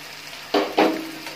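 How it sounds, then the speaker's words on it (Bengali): Taro stolons fry in hot oil that has begun to separate out, giving a low background sizzle broken by two sharp, louder bursts of spattering stirs that fade quickly. "এখানে লতিটা থেকে তেল ছাড়তে শুরু করে দিয়েছে, তার মানে লতিটা খুব ভালো করে ভাজা হয়ে গেছে"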